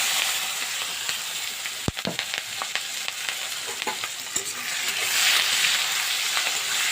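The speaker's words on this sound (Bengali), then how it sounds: "এবার এই যে পেঁয়াজ কাঁচা লঙ্কা টমেটোটা দিয়ে দিলাম।" Onion, green chilli and tomato frying in hot oil over tempered spices and bay leaf, a steady close sizzle with spoon stirring and scraping, one sharp clank near the start, no talk.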